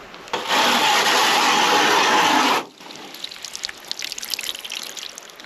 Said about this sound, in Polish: Ale zapieprza woda.